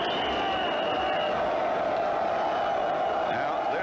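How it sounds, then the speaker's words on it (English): A football stadium crowd keeps cheering as a 1985 San Francisco 49ers at Atlanta Falcons game winds down, a steady roar of voices and whoops from a large crowd, with close talk over it. "but they're still cheering."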